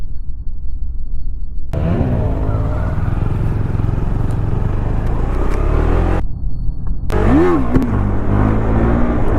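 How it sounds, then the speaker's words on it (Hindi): A vehicle on the road growls close and loud beside a KTM Duke 390 motorcycle. The engine rumble cuts out briefly and then returns as the traffic approaches. "गाड़ी आ रहा है।"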